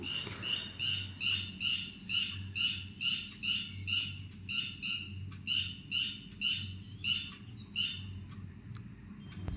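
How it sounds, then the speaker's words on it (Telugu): Birds chirp outdoors in a bright repeated call, a regular series of sharp, high notes over a low steady background hum, fairly clear and unaccompanied by talk. "Bird sounds వినిపిస్తున్నాయా?"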